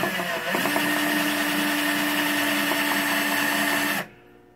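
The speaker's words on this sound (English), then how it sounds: "Slowly just drilling a hole in it." A power drill slowly boring a hole through a stop-motion puppet armature part pressed against a table, a steady loud whine that starts abruptly and runs continuously before cutting off.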